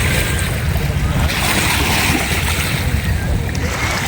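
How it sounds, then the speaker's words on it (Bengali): River current and waves on the Padma beside a boat, heard as a loud, continuous rushing wash with wind buffeting the microphone. "অনেক স্রোতের ঢেউয়ে অনেক শব্দ হচ্ছে"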